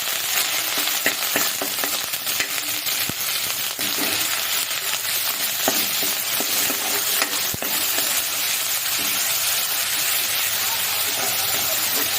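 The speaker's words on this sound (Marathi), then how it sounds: "छान भाजू दे मसाला" Dried coconut and onion masala paste sizzles steadily in a hot pan, a dense continuous frying hiss with scattered crackles and a few sharp pops, close and fairly loud with no voices.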